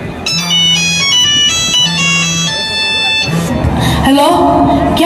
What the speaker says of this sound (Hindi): और उसी समय कृषक का फोन बजता है।